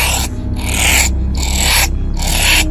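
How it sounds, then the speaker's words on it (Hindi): A honey badger gives four harsh, rasping bursts in a steady rhythm, each about half a second long and separated by short pauses, close and loud with no other sound. "मोस्ट ऑफ द टाइम वो हनी बैजर की आवाज है।"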